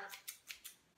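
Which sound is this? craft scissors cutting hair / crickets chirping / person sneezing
craft scissors cutting hair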